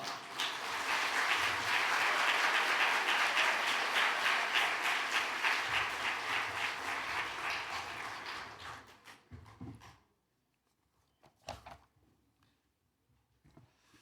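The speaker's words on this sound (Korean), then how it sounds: "우리 목사님 나오실 때 힘찬 박수로 한번 환영해 드리도록 할까요?" A church congregation claps loudly and steadily to welcome the pastor to the pulpit at an autumn revival service, the applause fading out toward the end and followed by a few faint scattered sounds.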